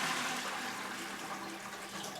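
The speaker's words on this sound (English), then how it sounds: "we're going to take our gallon of water and pour it into our food safe container here." A gallon of water pours steadily into a food-safe container, a continuous close splashing rush that holds at an even level throughout, with no talking.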